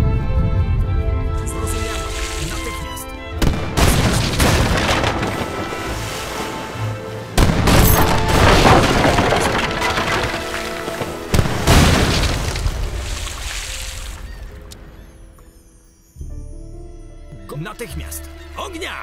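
Musket volleys and cannon blasts from a 1654 Battle of Shklow scenario in Age of Empires III Definitive Edition erupt in heavy, repeated booms and crackling bursts, with a short lull near the end before firing resumes.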